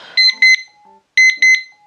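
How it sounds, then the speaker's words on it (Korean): A Pomodoro desk timer sounds its alarm, two quick pairs of sharp, high electronic beeps, loud and close, with short pauses between them. "타이머가 다 되면은 띵 하고 타이머 소리도 나는 타이머거든요"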